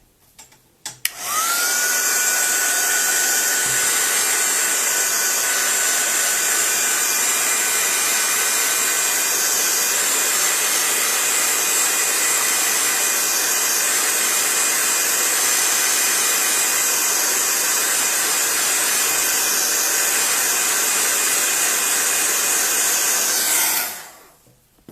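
A hair dryer blows steadily on quick-drying acrylic paint, a loud continuous whirring hum with a high whine that starts abruptly, holds for over twenty seconds alone, and cuts off at the end.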